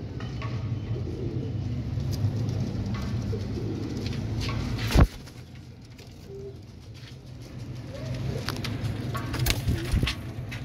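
Royal Teddy pigeons coo softly and repeatedly over a steady low hum, with a sharp knock midway and faint traffic in the background.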